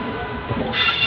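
A Duronto Express train runs with a steady, close rumble of wheels and carriage noise, rising slightly as a brighter metallic hiss comes in near the end of the short stretch.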